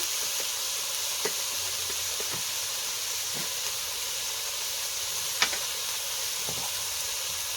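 Tomato-based spice masala frying in a pan cooked outdoors in the rain, a steady soft sizzle and hiss running throughout with a few sharp clicks and taps of a utensil, no voices.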